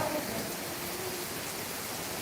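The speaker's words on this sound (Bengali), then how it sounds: "খুব সুন্দর বৃষ্টি অনেক দিন গরম গরমের পরে বৃষ্টি খুব ভালো লাগতেছে" Rain falls after a long hot spell, a dense, even, broadband hiss of downpour that is steady throughout the short stretch with no voices.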